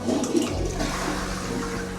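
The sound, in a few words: toilet flushing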